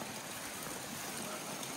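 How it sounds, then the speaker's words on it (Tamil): Water of a stream flowing steadily near the Anguthi Sunai waterfall, a continuous broadband rushing wash with no pauses, close and moderately loud, no voices. "ஸோ தண்ணி இப்படியும் போகுது"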